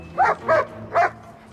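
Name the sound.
sniffer dog barking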